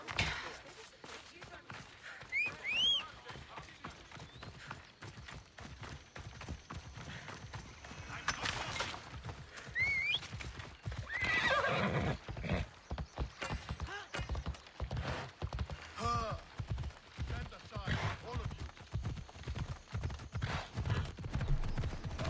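Horse hooves clip-clop at a gallop in Assassin's Creed Odyssey, with whinnies breaking through over a busy game soundscape; someone talks at points.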